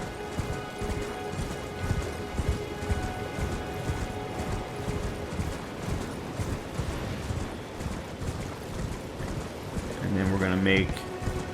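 Horse hooves galloping in the Elden Ring video game, a steady busy clip-clop rhythm running throughout under game ambience, with a brief louder burst near the end.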